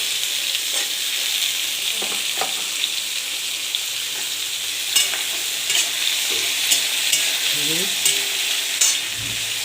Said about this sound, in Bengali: পেঁপেগুলো ছেড়ে দিলাম